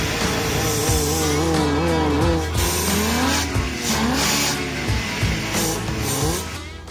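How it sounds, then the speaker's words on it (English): A custom engine-swapped Toyota with a newly fitted mass airflow sensor and upstream O2 sensor, running rich, revs up high in repeated rising and falling pulls, loud and close. "the mass airflow lets it rev up high now"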